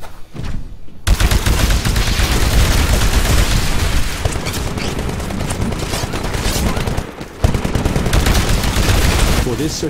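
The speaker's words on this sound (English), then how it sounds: "Destroy the Titan with your anti-Titan weapon." Dense, continuous weapon fire in the sci-fi shooter game Titanfall, a loud sustained barrage of rapid shots and booms with only a brief pause near the end, no talking over it.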